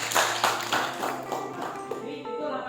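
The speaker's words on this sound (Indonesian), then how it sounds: "jadi yang berikan tepuk dulu." Classroom group clapping hands in short rhythmic bursts, several distinct claps near the start then softer patterned clapping, fairly close in a room.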